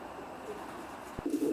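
Soft racing pigeon coos murmur inside a loft, with a low burbling call rising near the end over faint background rustle.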